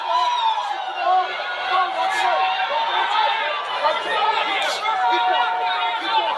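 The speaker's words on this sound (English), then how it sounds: "The crowd coming over from Oakland across the bay, starting to fill up this arena. And they are behind Amari Jones." Arena boxing crowd fills the air with steady, dense chatter and rising cheers for Amari Jones, a continuous roar of many voices at moderate distance with no single voice standing out.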